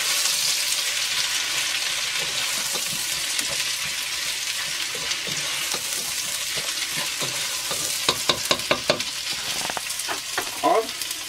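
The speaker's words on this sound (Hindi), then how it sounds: "प्याज काट के मिला दें।" Chopped onions frying in a pot for chicken biryani, a steady loud sizzle throughout, joined toward the end by a quick run of clattering stirs and scrapes, close up with no talking.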